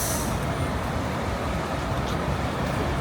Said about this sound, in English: Woo, look at that traffic.